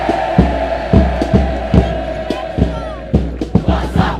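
Schoolboys at a St John's vs Jeppe rugby match chant war cries in loud, rhythmic unison, with sharp regular shouted beats roughly every half second over a sustained crowd roar.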